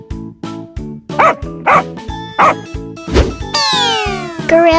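Several short dog barks in a quick, regular series over a plucky repeating tune, ending with a whistling slide.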